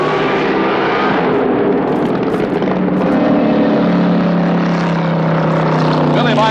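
A Top Fuel dragster at the 1978 Gatornationals roars loudly through tire shake with smoking tires, a harsh, sustained engine blare with a shifting pitch, heard under an announcer's commentary.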